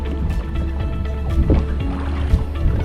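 A boat is rowed on the Norfork tailwater river, with low watery sloshes and oar strokes under a steady rumble of moving water, close and continuous without speech.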